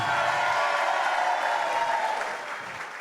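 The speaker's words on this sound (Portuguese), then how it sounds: "Palmas para o nosso anfitrião." Steady applause from a church leadership training crowd, loud at first and then tapering off toward the end, with no speech over it.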